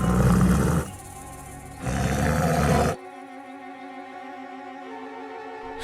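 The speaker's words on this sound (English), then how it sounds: "A huge tiger pounced on Bhima." A huge tiger in a jungle full of wild animals roars loudly in two powerful, close bursts. A lower sustained tonal rumble follows after the roars fade.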